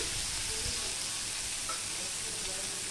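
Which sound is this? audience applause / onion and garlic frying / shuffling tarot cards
onion and garlic frying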